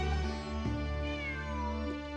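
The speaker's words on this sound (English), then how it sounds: "It really is a cat." A cat in the video game Genshin Impact meows clearly, up close and alone, over a sustained tonal game soundtrack during ruins exploration.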